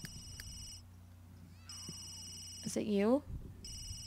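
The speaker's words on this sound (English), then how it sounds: "Somebody's telephone is ringing." Telephone ringing in The Sims 3, a repeated electronic ring in short bursts with gaps, heard alongside a cat-like meow and someone speaking briefly.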